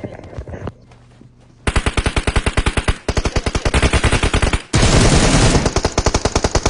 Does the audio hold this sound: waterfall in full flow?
no